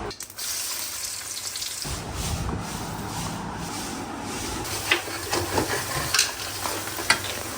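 Onion fries in a pan, a continuous sizzle with stirring scrapes and a few sharper clatters toward the end, close and steady.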